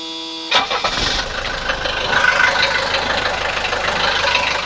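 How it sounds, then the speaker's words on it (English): A 1983 Mercedes 240D diesel engine cranks briefly and catches, then settles into a rough, clattering idle that stays steady and close. "And then the next thing to do is just start the car."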